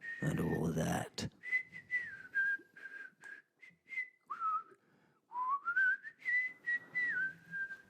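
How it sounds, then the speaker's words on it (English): A person whistles a jolly tune alone, a clear, close melody of short phrases with bending pitches and brief pauses between notes, preceded by a quick burst of noise. "I said as I turned to wander down the road to the house, whistling my jolly tune"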